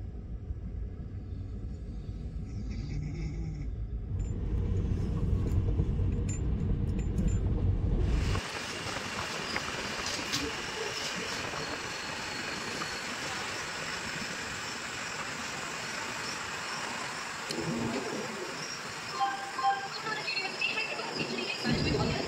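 A Garib Rath Express 12739 AC 3-tier train runs on the Vizag to Secunderabad route near Eluru. A low rolling rumble with clatter comes first, then a brighter, steady rush of running noise with some knocks, heard continuously at close range.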